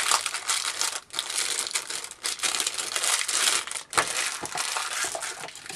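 Cling wrap crinkles and crackles as it is peeled off a cheap plastic five-dollar multimeter, in close, loud bursts with brief pauses between pulls.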